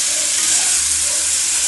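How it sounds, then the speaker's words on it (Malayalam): Cauliflower masala sizzles loudly in a pan while it is stirred, a steady bright hiss close up with no voices. "അതുവരെ നമുക്കിതൊന്നിങ്ങനെ ഇളക്കി കൊടുക്കട്ടോ."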